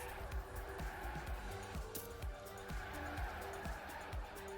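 Race cars in the TrackMania video game slide and drift through corners, tires squealing over steady engine roar, with repeated skid bursts in a fast rhythm and faint commentary underneath.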